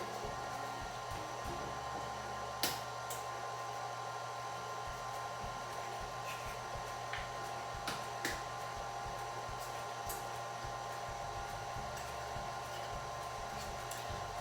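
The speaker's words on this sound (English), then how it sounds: "now that all that is in there and it's mixing up" Electric mixer whirring steadily while blending cheesecake batter with eggs, a constant motorized hum with a few brief clicks and knocks, fairly quiet throughout.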